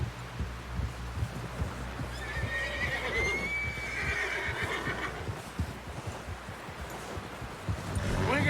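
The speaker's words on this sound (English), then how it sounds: "Someone help John down off this horse." A horse whinnies in a rising, drawn-out call in Red Dead Redemption 2, over a busy background with rhythmic low thumps like hooves, ending with a rising rumble.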